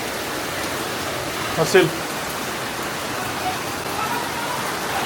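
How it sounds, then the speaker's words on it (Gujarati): Steady rain falls as a dense, even hiss, with a brief spoken word partway through. "અહીંયા મસ્ત વરસાદ આવે છે."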